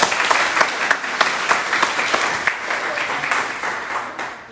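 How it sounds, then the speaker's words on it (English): An audience at a college accepted students day claps in a sustained round of dense applause, loud and close, fading slightly toward the end. "Give yourselves another round of applause."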